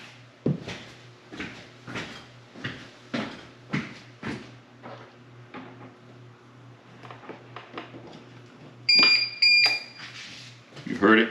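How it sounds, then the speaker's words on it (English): An APC 1500 UPS is handled with a series of soft clicks and knocks, then its alarm gives a short, sharp tonal beep near the end. People talk quietly throughout. "You heard it click, the alarm go off"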